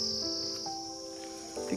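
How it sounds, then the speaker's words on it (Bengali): Crickets chirp in a hill forest near Tinchuley, a soft, continuous high trill with a few overlapping insect tones, faint and distant in a quiet outdoor setting with no talking. "ঝিঝি পোকা"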